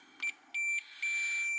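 A Fluke multimeter gives short continuity beeps while testing model railroad turnout track, two brief high tones and then a sustained steady beep, clear and close in a quiet room.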